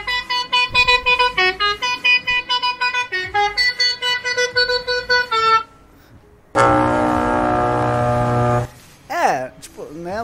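A musical horn mod on a Scania P310 truck in Euro Truck Simulator 2 plays a tune as a loud run of bright, rhythmic horn notes, then stops before one long sustained blast.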